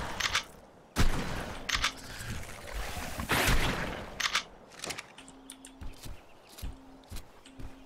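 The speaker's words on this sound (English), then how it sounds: "He's gonna get fucking dicked on by my shotgun" Shotgun blasts fire in ARK: Survival Evolved, several loud, sharp reports spaced a second or two apart amid creature noises and game effects.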